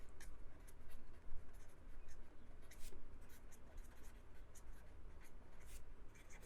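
Quiet, steady scratching and tapping of writing on a board during a Hindi biology lesson, continuous strokes with small pauses, no talking over it.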